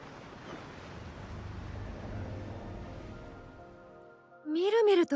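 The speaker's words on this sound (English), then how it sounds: "The sound of the waves has changed." Ocean waves roll near a shore in the video game Monochrome Mobius as a soft, continuous wash that thins out, and then a loud, rising tonal sound cuts in at the end.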